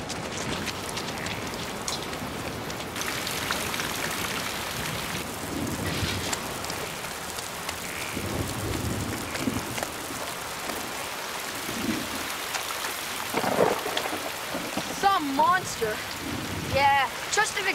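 Steady rain pours on surfaces throughout, with low rumbles of thunder rolling in the middle and a few faint voice-like sounds near the end, all moderately quiet.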